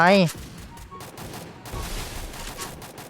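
Gunfire in the battle-royale game Free Fire: a burst of rapid shots rattles after a brief electronic tone, then continues more faintly at mid-distance with a voice underneath.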